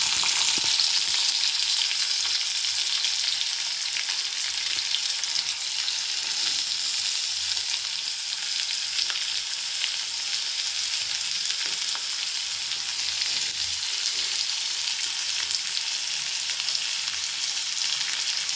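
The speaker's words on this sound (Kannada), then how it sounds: "ಆನಿಯನ್ ಹಾಕ್ತಾಯಿದ್ದೀನಿ, ಆಗಲೇ ಕಟ್ ಮಾಡ್ಕೊಂಡು ಇಟ್ಕೊಂಡಿದ್ದೀನಿ." Chopped onion frying in oil in a pan, a loud, even, hissing sizzle with faint crackle that runs steadily close up throughout, with no voices.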